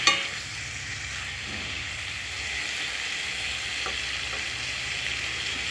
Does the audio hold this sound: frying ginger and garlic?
yes